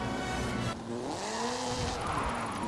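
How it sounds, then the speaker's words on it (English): Hoonigan Gymkhana 10 Ford Focus RS RX, a 2-litre turbocharged all-wheel-drive car, drifting in Forza Horizon 4, with a loud, steady engine drone and rising and falling revs under squealing tires throughout. "This is Mr. Kenneth Block's Hoonigan Gymkhana 10 Ford Focus RS RX. 2-litre, turbocharged, front-mounted engine and all-wheel drive."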